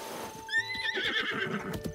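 Epona the horse neighs in The Legend of Zelda: Breath of the Wild, a bright rising whinny that shakes and trails off over about a second, close and clear against soft in-game background sound and faint hoof clatter.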